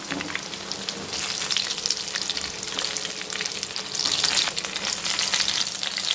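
Stuffed chilli bajji deep frying in hot oil until golden brown, a loud, continuous bubbling hiss that swells slightly near the end as the fritters are turned, heard up close with no talking.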